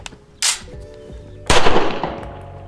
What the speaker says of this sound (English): Malfunction. That was a failure to feed, and it was a federal round.